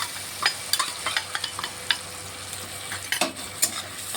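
A spice paste sizzles with tomatoes in a pan, steady frying hiss broken by repeated scraping and clacking stirs close by, with nobody talking.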